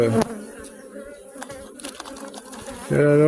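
Honeybees buzz steadily at an opened hive during a varroa inspection, a close, continuous drone. A voice speaks briefly at the start and end.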